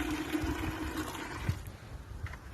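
Nutrient-rich water poured onto container-grown zucchini plants, a soft low trickle and splash close by, faint and continuous with a small burst midway.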